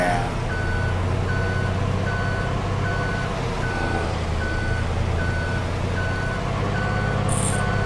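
Reversing beeper on a truck or forklift in Farm Sim 2022, a steady series of evenly spaced electronic beeps over a constant engine drone, fairly loud throughout.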